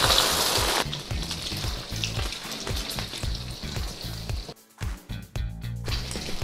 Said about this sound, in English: We're gonna add our beautiful eggs.